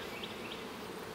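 Honey bees buzz steadily inside a winter hive, their heads pushed into comb cells, a continuous close droning hum with no pauses over the whole moment.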